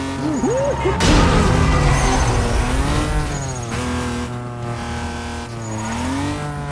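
A game car races in NFS Most Wanted, its engine revving hard and climbing in pitch through repeated gear shifts, with a burst of tire noise early on and a voice talking over the driving.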